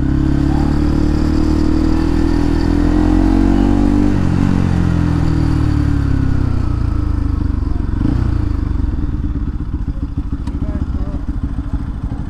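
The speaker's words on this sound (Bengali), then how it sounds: "এবার আরপিএম দিব লাগে আর বাইকের সাউন্ডটো, তো এবার শুনাই দিছো।" A motorcycle on a ride through Lower Assam revs its engine hard, loud and close, with the pitch climbing and falling in throttle blips, then settling into a rough, pulsing idle.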